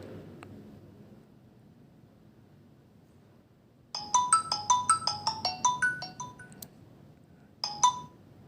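A Xiaomi Redmi Note 9 phone speaker plays a bright, chiming ringtone melody of quick repeated notes, starting after a few seconds of quiet room hiss, pausing briefly, then resuming with a short phrase.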